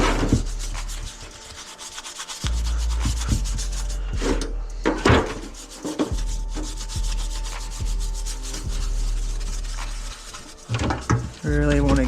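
Steel wool soaked in WD-40 scrubs the chrome on a KTM 85sx dirt bike in steady back-and-forth rubbing strokes, close and continuous, with brief pauses and a voice speaking over parts of it.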